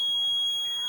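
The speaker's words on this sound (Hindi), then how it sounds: "इससे हम बजर भी चेक कर सकते हैं" A small electronic buzzer sounding through a multimeter's continuity test, one steady high-pitched tone held for under a second, close and fairly loud, with no talk.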